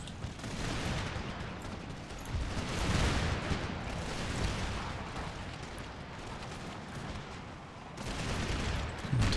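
Musket volleys in Empire: Total War, with Spanish line infantry trading fire on a battlefield, form a dense, continuous crackle and rumble of massed gunfire, distant and steady with periodic swells, and no voices.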